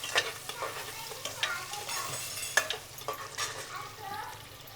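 Onion frying to golden brown for a home-cooked chicken biryani, a close continuous sizzle with frequent spatula scrapes and stirring taps in an uneven rhythm.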